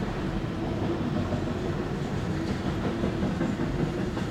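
A Norfolk Southern freight train rolls past a railroad crossing with a steady, heavy rumble and faint clickety-clack of wheels on rails, loud and continuous throughout.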